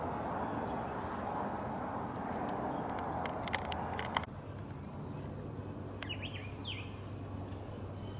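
Small bird near the water gives a few brief, faint chirps against a steady background hum of wind and distant engine noise.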